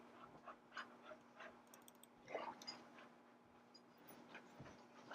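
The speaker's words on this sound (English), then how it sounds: "Listen to my dogs bark." Dogs panting with soft whimpers, close by and fairly quiet, in short irregular breathy bursts over a steady low hum in an indoor room.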